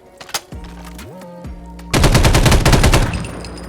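Rapid bursts of submachine gun fire in Fallout 4 VR, starting after a few synthetic game tones and then roaring loud and dense for about two seconds before trailing off.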